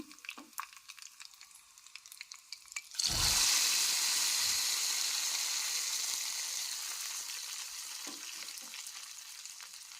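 Hot tempering of dried red chillies and curry leaves poured into Mangalore-style cucumber sambar, bursting into a loud sudden sizzle that slowly fades, preceded by light clinks and stirring noises.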